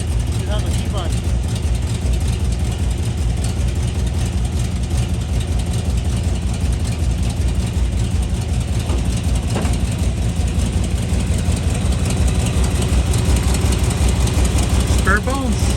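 A 1983 Oldsmobile Cutlass G-body with a swapped-in engine idles steadily, a loud, even low rumble that holds throughout while people talk over it.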